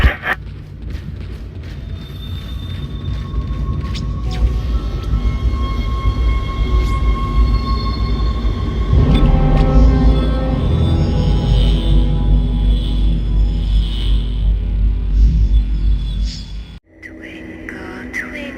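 A tram rides through the Dead Space game world with creaking metal and a rolling mechanical rumble, joined by clanking and whirring tones that build midway, then cut off abruptly near the end.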